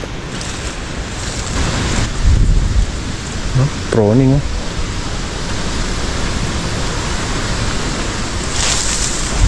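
Steady hiss of rain falling on a calamansi farm throughout, with a voice briefly speaking partway through.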